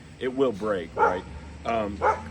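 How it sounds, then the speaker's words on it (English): Several household dogs bark in short, repeated bursts from a room nearby, five or six loud yaps in quick succession while someone speaks over them. "Excuse the dogs. Those are my dogs back there."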